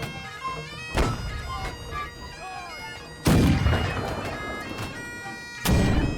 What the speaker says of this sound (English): Somebody's already using the cannon.